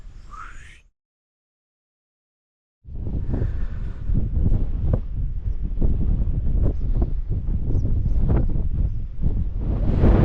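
Strong wind buffets the microphone on the hilltop of Titterstone Clee in Shropshire, a loud, gusty roar that cuts in after a short silence and keeps up steadily.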